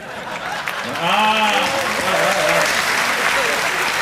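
A live comedy show audience claps steadily, a dense wash of applause under a voice speaking over it.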